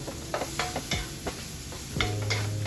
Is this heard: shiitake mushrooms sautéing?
yes